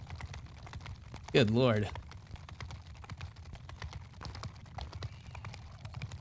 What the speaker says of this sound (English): That is a lot of clippity clops.